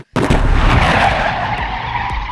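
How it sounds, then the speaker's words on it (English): Vortex ring cannon firing an invisible ring of air, one sudden loud whooshing blast that tears in sharply and then hisses and rumbles on for about two seconds. "That noise is the invisible vortex ring just ripping through the air."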